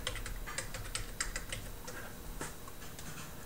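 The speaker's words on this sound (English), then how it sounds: "You're going to type in the password of your home server." A password being typed on a computer keyboard while setting up a home server connection, a quick run of close, light key clicks followed by a few slower taps.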